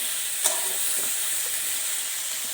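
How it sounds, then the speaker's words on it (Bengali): Vegetables with ginger sautéing in a pan, a steady close sizzle with one short scrape of stirring near the start. "তো এখন দেখো সবজিটা কষিয়ে নিচ্ছি ভালো করে আদা বাদা দিয়ে দিয়েছি"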